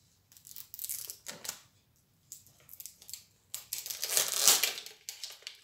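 Paper packaging of an L.O.L. Surprise doll tears open in several ripping bursts separated by pauses, close by, with crinkling as the pulls grow longer and louder.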